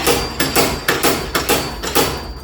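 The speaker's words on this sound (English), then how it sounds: "Just remembered I've got my little slide hammer with me, so I'm going to use that" A slide hammer pulls at the damaged bodywork of a Mk2 Vauxhall Cavalier L, giving about six sharp, loud metallic knocks in an uneven rhythm, close by with no talk.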